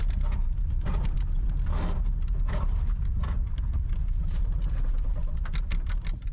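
A restored, once-abandoned Rolls Royce luxury car drives along a road, its engine and road noise forming a loud, steady low rumble that fills the whole stretch without any talk.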